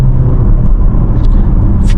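A BYD Song hybrid SUV with a 1.5 turbo and two electric motors accelerates hard in Sport mode, giving a steady loud low rumble of road and drivetrain noise heard from inside the cabin.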